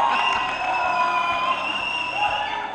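Graduation convocation audience cheering and applauding, a steady wash of clapping and distant shouts heard from within a large hall, fairly even in level, with a faint voice mixed in.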